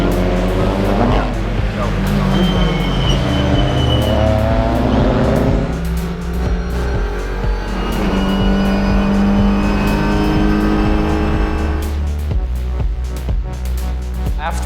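TCR UK touring race cars at Snetterton circuit, loud engine roar rising and falling through gear changes as cars accelerate and pass close by, continuous and dominant, with overlapping engine notes.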